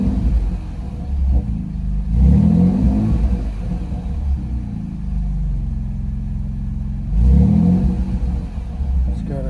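A 2024 Ford Ranger pickup's turbo engine with a Flowmaster 40 Series exhaust revs twice with a deep, throaty rumble, idling low in between; a nearby voice talks briefly.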